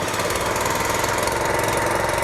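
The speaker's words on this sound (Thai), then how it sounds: "นี่นะฮะเครื่องยนต์ติดแล้วนะฮะ" A high-pressure agricultural spray pump engine running steadily, a loud, close, continuous rattling drone with a fast even knock throughout.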